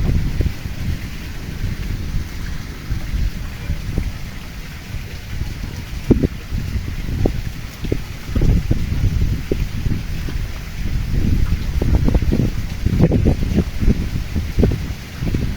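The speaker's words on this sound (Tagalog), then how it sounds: "malakas ang hangin." Strong wind buffets the microphone outdoors during flooding, a constant low rumble with gusty thumps and rattling bursts throughout.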